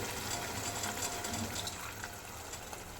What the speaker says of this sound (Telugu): ఇప్పుడు మనం తగినంత వాటర్ పోసుకోవాలి.